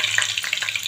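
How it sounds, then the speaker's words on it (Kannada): Curry leaves crackling in hot tempering oil with mustard seeds, a loud, close, busy sizzle full of rapid pops and spits. "ಇದು ಕರಿಬೇವು ಹಾಕ್ಕೊಂಡು"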